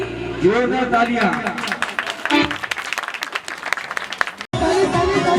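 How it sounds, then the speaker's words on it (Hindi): At a devotional Mata ki Chauki gathering, the audience claps along under loud singing voices, with rhythmic hand claps mixing into the chant and a brief pause before it resumes. "तालियां"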